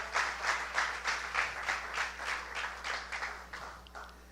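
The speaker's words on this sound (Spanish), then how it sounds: "¿Cuántos le pueden dar un aplauso?" A church audience applauds steadily, many hands clapping in a dense, continuous patter that tapers off slightly toward the end.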